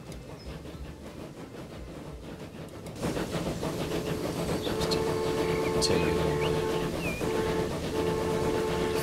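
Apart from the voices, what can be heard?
train on the Gotthard line in video game Transport Fever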